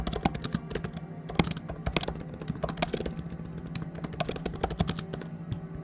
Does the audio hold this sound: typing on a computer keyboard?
yes